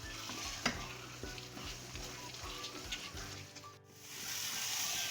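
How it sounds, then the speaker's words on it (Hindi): Dry dates halwa roasting in a pan while a spoon stirs it, a steady close sizzle with soft scraping strokes throughout, briefly dipping before the frying hiss returns. "ये देखें इसकी कितनी ज़बरदस्त सी भुनाई हो रही है, और थोड़ी थोड़ी देर पे हम चमचा भी हिलाते जा रहे हैं"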